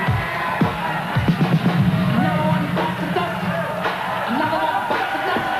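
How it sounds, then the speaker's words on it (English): Arena crowd at a 1984 WWF wrestling event cheering and yelling in a continuous roar with swelling shouts, a commentator's voice running over it. "Oh, the crowd loves it."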